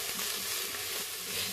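Beef browns in an Instant Pot with a constant, even sizzle and crackle of frying, heard up close with no voices.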